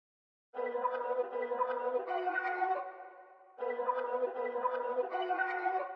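A 'Particles' sample from the 44 accents kit, chopped up, time-stretched and reversed into a dense, shimmering loop of smeared tones that swells in, dips briefly near the middle, then returns at full level.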